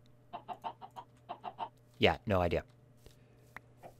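Chickens cluck in a Minecraft modpack game, a rapid run of short, evenly spaced clucks followed by a louder drawn-out squawk, with a steady low hum underneath and a person talking briefly.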